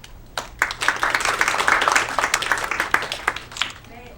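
Audience applause at a training session for new company employees, a burst of clapping that rises, holds steady for a few seconds, then thins out.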